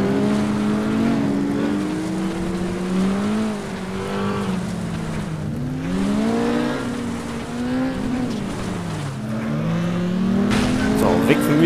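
Racing car engine in the FlatOut video game on a mixed gravel and asphalt village course, rising and falling in pitch as the car shifts gears and revs through corners, steady and close, with someone talking over it.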